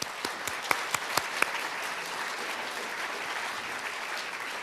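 An audience claps together in a hall, a dense even wash of applause with a few sharp individual claps standing out near the start, sustained throughout, no talking.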